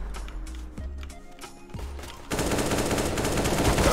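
Gunfire in CS:GO played at a low frame rate: several sharp shots in the first half, then a dense, loud, sustained burst of rapid fire filling the rest.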